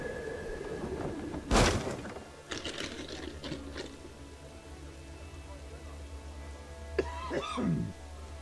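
A man coughs and clears his throat sharply near the microphone, a loud burst then a few smaller throat sounds, over faint room hum, with a brief soft voice late on.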